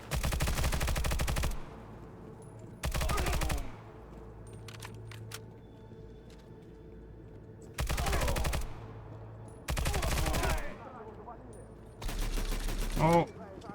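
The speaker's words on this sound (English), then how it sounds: "Oh, has the machine gun." Machine gun fire in the video game Stalcraft: X comes in several sharp, loud bursts of rapid automatic shots, separated by quieter stretches of ambient game sound.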